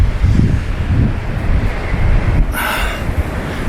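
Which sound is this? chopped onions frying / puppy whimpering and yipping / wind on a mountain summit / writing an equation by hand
wind on a mountain summit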